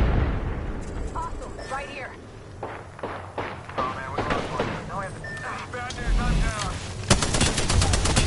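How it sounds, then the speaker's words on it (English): Grenade blasts and gunfire from an Apex Legends match boom and crackle in a dense, continuous barrage. Excited players talk over the explosions throughout. "they're throwing a lot of grenades"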